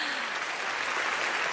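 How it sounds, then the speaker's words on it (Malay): Audience applause at the Pesta Perdana 2023 awards show, a steady, dense wash of clapping from a large crowd that fills the whole stretch evenly with no voices on top. "Kita berikan tepukan buat Syek."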